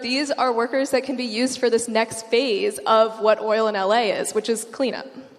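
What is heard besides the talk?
No everyday noises stand out.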